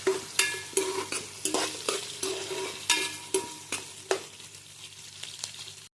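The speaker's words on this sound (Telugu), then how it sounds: "ముందుగా అయితే ఉల్లిపాయలు వేసుకుందామండి. పచ్చిమిరపకాయలు వేసుకుందామండి. కొంచెం ఎర్రగా వేయించుకోవాలన్నమాట." Onions and green chillies sizzle in a pan while a spoon stirs them, scraping in an uneven rhythm of sharp, close strokes over a steady hiss.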